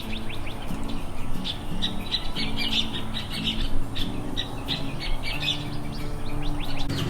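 Newly hatched chicks in a brooder, giving a dense, continuous chorus of high peeping chirps, close and steady throughout, with no talk.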